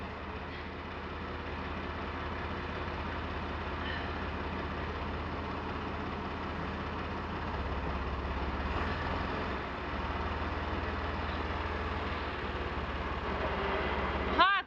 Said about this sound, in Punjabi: ਇੱਧਰ ਤਿਆਰੀ ਹੋ ਗਈ ਹੈ ਜਾਣ ਦੀ ਕਿਤੇ ਤੇ ਟਰੈਕਟਰ ਕਰਤਾ ਸਟਾਰਟ